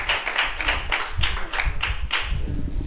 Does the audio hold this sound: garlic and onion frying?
no